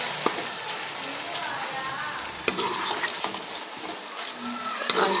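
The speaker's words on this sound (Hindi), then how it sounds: "1 से 2 मिनट तक इसमें हम फ्राई करेंगे" Shredded chicken fries in a pot for yakhni pulao, a steady close sizzle with occasional sharp scrapes and knocks of stirring, no voices over it.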